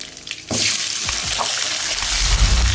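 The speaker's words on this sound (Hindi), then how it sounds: "आलू को हम अच्छे से इसमें भून लेंगे और बहुत ज़्यादा अच्छे से हम इसको ब्राउन कर लेंगे" Potatoes tossed into a hot pan with ginger garlic paste for aloo bhujia, starting with a clatter then a loud, steady sizzle and frying hiss with scraping stirs, heard up close with no talking.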